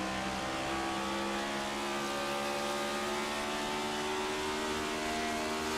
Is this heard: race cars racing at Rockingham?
yes